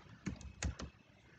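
A few soft keystrokes tap on a computer keyboard, four or five quick clicks in a short burst, faint and close in a quiet room.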